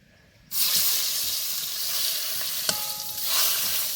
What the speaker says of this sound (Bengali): কড়াইতে তেল গরম হয়ে গেছে, এবার সেই জ্যান্ত মাগুর মাছটা দিব।